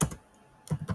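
Quick keystrokes on a computer keyboard while entering a Linux terminal command, a short close cluster of clicks, a brief pause, then another burst of taps.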